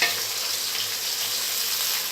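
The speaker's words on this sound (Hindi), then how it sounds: "इसको हम फ्राई करेंगे प्याज़ों को इस तरीके से।" Onions fry with whole spices in oil in a pot, a close, even, dense sizzle that holds steady throughout with no voices.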